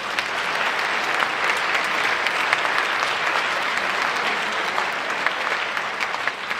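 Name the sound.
audience applause at a school band concert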